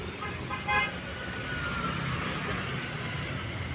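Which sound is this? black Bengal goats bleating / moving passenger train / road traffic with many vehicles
road traffic with many vehicles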